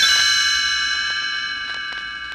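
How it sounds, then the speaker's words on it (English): A single bright bell chime rings out and slowly decays, with faint softer taps in the background, used as a page-turn signal in a read-along storybook recording. "You will know it is time to turn the page when the chimes ring like this."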